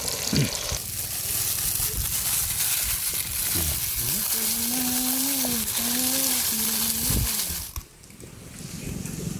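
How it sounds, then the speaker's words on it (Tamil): Chopped big onions fry in a pan with a steady, moderately loud sizzle and light stirring. A brief humming tone rises over it in the middle, and the sizzle drops away near the end. "பொடிச்சு வச்ச பெரிய வெங்காயம் வெங்காயம் போடுகிறோம்"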